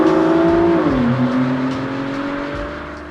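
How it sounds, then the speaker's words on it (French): Twin-turbo V12 of an Aston Martin DB11 accelerating, a loud smooth engine tone that dips briefly at a gear change and then climbs steadily, heard close with no talking. "Si on accélère, là il n'y a pas de problème, on en a bien 12, on les entend, ils chantent, malgré les turbos."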